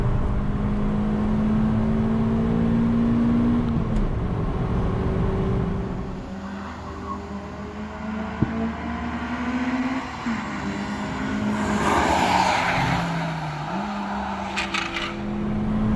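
A Suzuki Swift Sport laps the Cadwell Park race circuit, its engine revving hard through gear changes with rising and falling pitch and steady in-car whine throughout.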